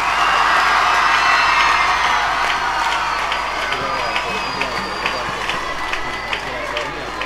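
Audience applause for students at a stage event, a dense sustained wash of clapping with cheers and whoops mixed in, loud at first and easing slightly while staying steady to the end.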